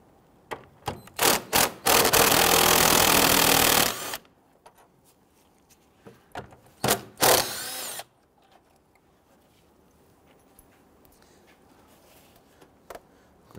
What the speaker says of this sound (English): we want to go ahead and loosen and remove this 10mm bolt, as well as the one on the other side.